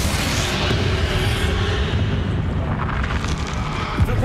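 A Confringo blasting curse explosion in the Hogwarts Legacy video game, a loud sustained roaring rumble of blast and debris that stays dense for several seconds, close, with no speech.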